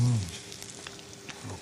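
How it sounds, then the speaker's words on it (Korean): Yellow croaker sizzling as it fries in cooking oil in a preheated pan, a steady close crackle that stays fairly even throughout. "자, 지금부터 이제 굽겠습니다."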